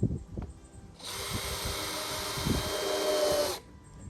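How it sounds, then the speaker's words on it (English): A cordless drill whirs steadily for a few seconds, driving a screw into wood, with soft knocks and handling sounds before and after. "I'm gonna start screwing it together and we will go from there"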